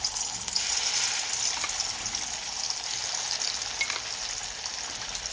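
A paste of ginger, green chili and onion fries in a hot kadai with a steady, loud sizzle and hiss throughout, broken by faint stirring scrapes, with no voices.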